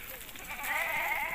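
Sheep and goats in a Himalayan herd give a single drawn-out bleat that rises and holds, heard fairly close above the soft murmur of the outdoor surroundings.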